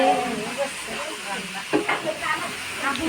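Food sizzles steadily in a pan in a home kitchen, a continuous frying hiss with occasional stirring clatter, while voices murmur in the background.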